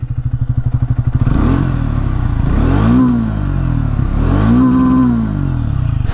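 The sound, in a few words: 2025 Triumph Speed T4 motorcycle exhaust sound, revving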